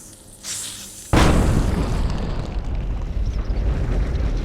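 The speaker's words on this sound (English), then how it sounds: "There is a loud explosion, and a 20-foot hole appears in the far wall" A sudden loud explosion blasts a hole in a cave wall in the video game Colossal Cave 3D, a deep boom after a short fizzing wick, followed by a rumbling, roaring tail.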